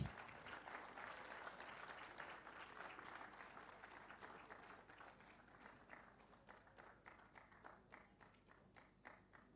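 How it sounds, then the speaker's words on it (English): Audience applause at an MBA convocation ceremony, a sustained crowd clapping that starts dense and gradually thins into more separate, rhythmic claps, heard at a distance and fairly faint. "Special clapping for this little fairy on the stage."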